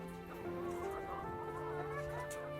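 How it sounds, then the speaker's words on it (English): Dual-purpose egg and meat chickens cluck softly in a farm flock, faint and steady over a constant background hum. "These are dual-purpose birds. They're good egg layers and pretty good meat birds too."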